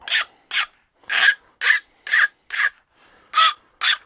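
A metal hand file rasps across steel edges clamped in a Wilton bullet vise, chamfering and deburring them in about eight separate short strokes with brief pauses between, crisp and close.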